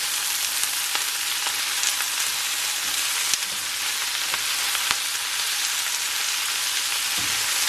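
Chard and smoked sausage sizzle in a pan, a steady bright frying hiss with a few faint taps and stirs, close and even with no voices.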